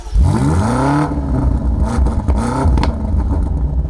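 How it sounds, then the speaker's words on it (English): BMW M5 twin-turbo engine with a revised M Sport exhaust, revved hard in short bursts: rising and falling engine note, loud and close, with crackling between blips and no talking. "there's a revised exhaust, presumably introduced to try to match the explosive bellow of that rival AMG unit"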